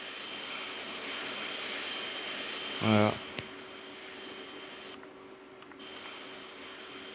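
A CRJ-1000 jet airliner taking off in a flight simulator game gives a steady, loud broadband engine roar that fills the whole stretch, with a brief spoken word and a short tonal blip partway through.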